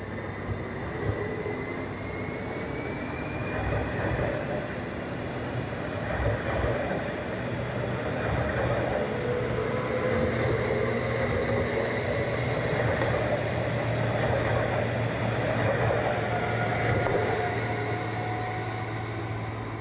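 A Stadler Flirt 3 four-car electric multiple unit of DB Regio NRW heard from onboard, a steady, even rumble of running gear with a faint whine and occasional rail clatter, continuous and unbroken, no voices.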